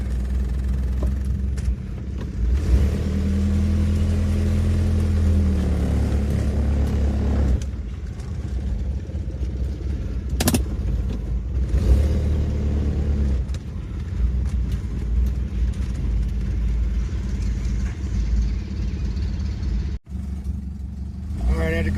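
An old Ford Pinto engine runs at a low, rough idle, a steady deep rumble with a few revs and shifts in tone, close by, while people talk over it at times.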